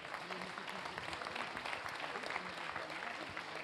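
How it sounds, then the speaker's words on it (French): An audience at a French soil-health conference applauds a participant, dense, even clapping that sustains at moderate level for the whole stretch, with faint voices mixed in. "On peut commencer déjà par les applaudir"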